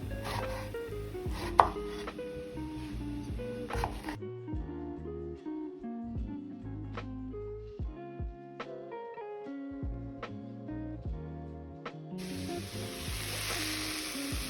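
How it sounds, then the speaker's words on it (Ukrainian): A kilogram of eggplant is cut into large squares with a knife, the sharp, irregular chops sounding under background music, with a frying sizzle at the start and end. "нарізаємо далі баклажан 1 кг баклажанів, також нарізаємо його такими великими квадратами можна"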